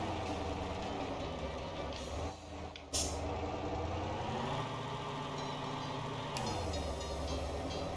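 A truck engine drones steadily while pulling uphill in third gear in Motor Town, loud and close, with a brief hiss of air release and a shift in tone partway through.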